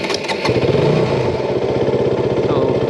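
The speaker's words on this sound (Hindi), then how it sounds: "तो हम एक बार इसको इंजन को स्टार्ट करके देख लेते हैं" A bike's engine, being checked for a check-engine light, cranks and catches, then settles into a loud, steady, close idle with a rhythmic chugging throb.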